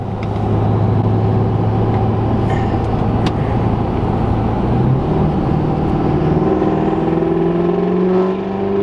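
A Duramax L5P diesel pickup truck accelerates under boost, its steady engine drone rising in pitch through the run with a whirring note, loud and close throughout.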